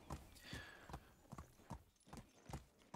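Horse hooves thud at a steady, even pace while riding in Medieval Dynasty, with a regular clip-clop beat carrying through the whole stretch.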